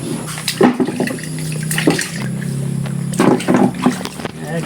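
Water splashing and sloshing during washing chores in a rural farm setting, irregular pours and splashes close by, with voices talking over and between them.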